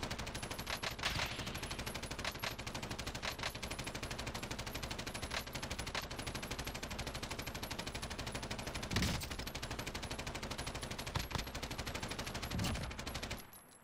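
A machine gun with a 200-round magazine fires in Warzone, a long sustained stream of rapid shots running almost without pause, with a few louder impacts and bursts layered in.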